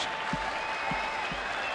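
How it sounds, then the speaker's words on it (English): Baseball fans clap at a ballpark after a strikeout, with a steady wash of applause and crowd noise and a few low thumps rising through it. "Fans applauding for the K, or at least that third out."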